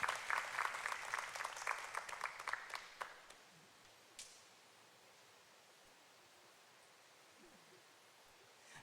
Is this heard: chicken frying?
no